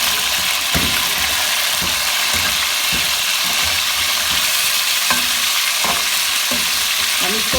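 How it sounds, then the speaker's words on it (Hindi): Hot oil sizzles loudly and steadily for chicken pulao, with occasional faint clicks and scrapes from stirring, close up and continuous, with no voices. "हम इसको थोड़ा सा फ्राई कर लेंगे।"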